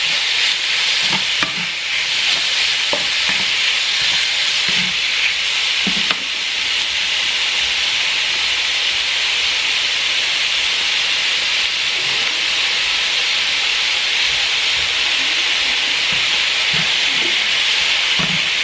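Chicken stir fry sizzles hard over a high flame as it is mixed, a loud, continuous hiss broken by occasional soft scrapes and knocks, with no voices.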